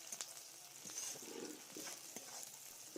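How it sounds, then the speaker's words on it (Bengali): Onions frying in hot oil in a wok with whole cardamom and bay leaves for a stingray fish curry: a steady, close hiss of sizzling broken by soft scraping and stirring knocks, with no voices. "এরপর কড়াইতে পেঁয়াজ দিয়ে আরও একটু ভালো করে ভেজে নেব"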